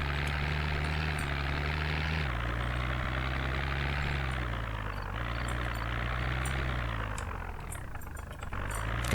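A police car's engine in the Project Zomboid video game hums with a low, steady drone whose pitch shifts in a few small steps. It sounds close and runs continuously without talk.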